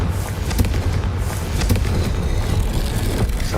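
Fire spell explosions in the video game Hogwarts Legacy: dense, rumbling bursts and crackling booms in quick succession, loud and continuous with no voices.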